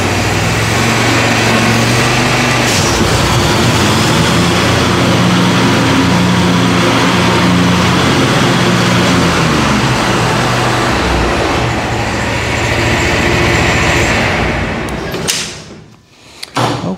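A Z920m zero-turn mower engine runs loud and steady, rising and shifting pitch as it is revved, then cuts out abruptly near the end, leaving a brief quiet with a few clunks.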